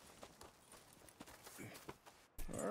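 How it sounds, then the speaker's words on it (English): Horse hooves clip-clopping in Red Dead Redemption 2 at a stable, a steady walking beat under game ambience that turns into a louder burst of sound near the end. "You got yourself a deal. And a fine new horse."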